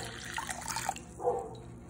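Warm water is poured into a bowl of yeast for naan bread dough, giving a soft, close splashing trickle that lasts about a second and then fades.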